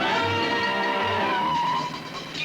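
A stolen car speeds away in a 1980s Paddington Bear cartoon, engine roaring loud and close with a squeal of skidding tires, steady and continuous with no talk over it.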